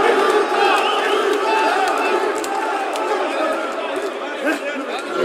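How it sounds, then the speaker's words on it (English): A crowd chanting at an armwrestling supermatch between Russia and Georgia, a dense, loud wash of many voices with rising shouts and whoops throughout. "The crowd starts to chant."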